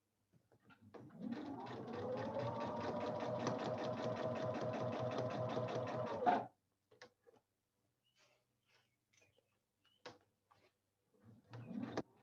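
A sewing machine stitches a throw pillow with a rapid, even mechanical chatter lasting about five seconds, then stops, followed by faint clicks and a short burst of stitching at the end.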